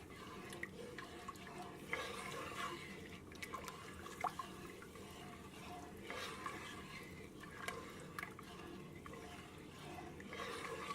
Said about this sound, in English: And we're going to stir this and bring this up to a boil.